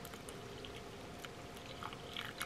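Bottled water poured into a pizza dough mix, giving a faint, continuous trickling splash with a few brighter drips and no speech.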